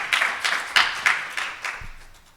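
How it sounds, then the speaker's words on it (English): A small audience at a real estate finance panel session gives brief scattered applause, a handful of distinct claps that quickly thin out and fade within a couple of seconds. "If we can just give our panel a round of applause for taking the time out to be here"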